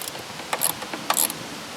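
Ratchet clicking in short bursts while removing a 10mm screw from the idle air control valve on a 2001 Dodge Dakota 4.7L, close and crisp against a quiet background.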